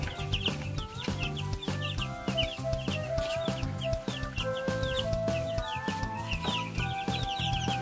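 Chickens in a small backyard poultry flock clucking around a split-bamboo feeder, with many overlapping clucks and calls, close and continuous, with no speech.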